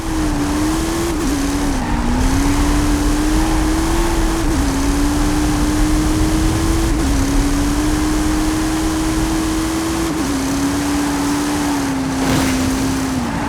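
Hot Wheels Twin Mill car engine in Forza Horizon 5 holds a loud, steady high-revving drone for the whole stretch, pitch dipping briefly at a few gear shifts, with faint tire noise and no talking.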